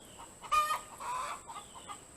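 Hens in a chicken yard give a few short clucks and low murmurs, quiet and fairly close, over faint outdoor ambience.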